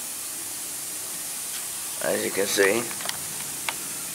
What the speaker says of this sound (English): the noise you hear in the background is my sprinkler spraying water all over the place